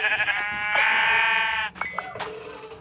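A white sheep in a survival video game bleats close and clear, one long wavering call followed by a couple of shorter broken bleats.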